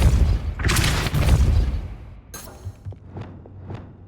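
A Depulso spell cast in the video game Hogwarts Legacy, a loud whooshing blast followed by a second burst and a few fainter thuds trailing off.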